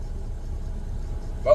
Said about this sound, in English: I'm driving this truck around just to keep it lubricated or whatever.